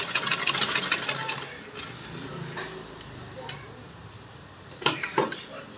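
Domestic sewing machine running in short bursts while stitching a salwar, a quick rattling tick that stops and restarts, fairly faint and close.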